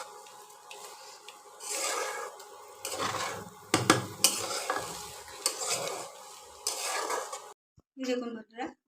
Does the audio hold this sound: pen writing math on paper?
no